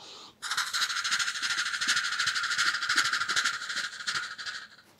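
A voice imitating a coal-fired steam train, a loud hissing chuff held steadily for several seconds with a pulsing rhythm, then cut off sharply.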